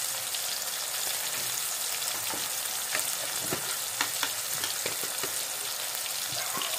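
Tomatoes sauté in a hot pan with a dense, even sizzle that fills every moment. Faint irregular taps and stirring clicks scatter through it, and no voices are heard.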